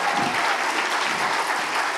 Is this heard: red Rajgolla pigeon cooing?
no